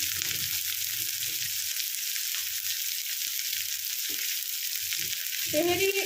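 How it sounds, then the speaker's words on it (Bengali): Ingredients for chicken pulao fry in a single pot, making a steady, bright sizzle throughout, with faint stirring knocks and a short tonal clink near the end and no speech. "এটা একটু ভালো করে ভেজে নেব।"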